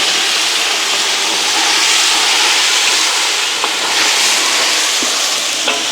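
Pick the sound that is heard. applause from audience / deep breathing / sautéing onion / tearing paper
sautéing onion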